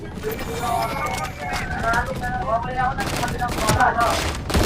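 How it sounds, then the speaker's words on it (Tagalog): Rapid gunfire bursts from the tactical shooter Valorant, continuous and dense, mixed with game effects and overlapping voice lines and chatter throughout. "Parang baril ng baril."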